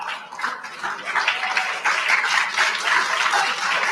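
Audience applause breaking out during a played political speech, a dense steady wash of many hands clapping at moderate distance, continuing evenly throughout with no talk.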